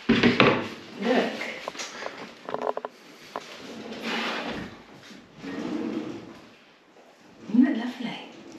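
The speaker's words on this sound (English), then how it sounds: "Beautiful internal wood drawers." Wooden internal drawers in a newly fitted kitchen slide open and shut several times with soft rolling and bumping sounds, interspersed with people talking nearby.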